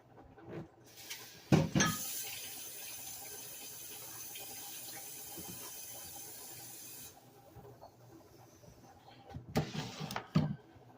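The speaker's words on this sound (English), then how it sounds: "Let me wash my hands." Water runs from a kitchen tap into a sink for several seconds as hands are washed, a steady hiss framed by a few louder splashes and clatters at the start and end.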